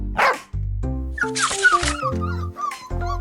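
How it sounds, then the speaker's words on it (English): A brown dog barks, yips and whimpers in short bursts over bright, sustained musical tones, loud and close, with no talking. "Brown, like a dog."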